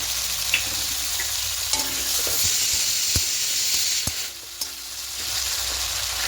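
Slit green chilies and prawns frying for lau chingri, a continuous bright sizzle with scattered scrapes and taps of a stirring spatula, close and steady, no talking.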